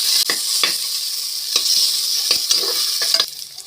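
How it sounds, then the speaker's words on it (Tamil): Onions fry with a loud, steady sizzle in a pan for sambar rice, broken every half second or so by sharp scraping strokes of a spoon stirring, close and continuous with no talking. "வெங்காயம் சூப்பராக வதங்கிடுச்சு."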